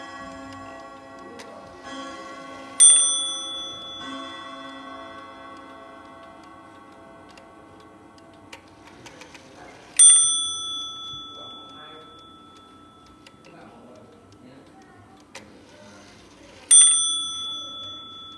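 Antique Dutch wall clock (Tạ Lê style) striking its chime three times, each a sharp ringing bell strike that decays slowly, over a steady near ticking mechanism.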